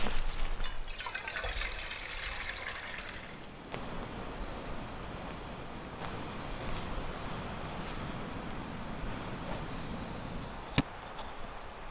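Water poured into a small pot to heat for cup noodles at a motorcycle campsite, a trickling fill then a steady splashing flow with a few clinks, close and fairly faint outdoors.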